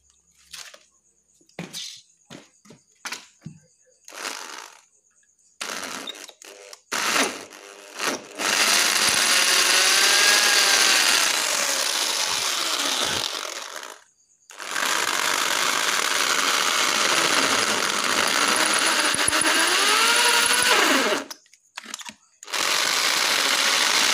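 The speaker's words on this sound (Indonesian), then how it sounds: "oke kita bor" Close-up power drill boring into a used spark plug: a few short bursts, then two long sustained whining runs with a brief pause between.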